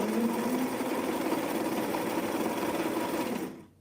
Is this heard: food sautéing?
no